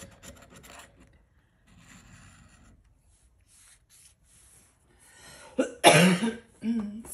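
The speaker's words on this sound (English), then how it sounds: "Excuse me, still got that cough." A loud, harsh cough bursts out near the end, followed by a shorter rasp, after quieter stretches of faint rustling and low murmuring.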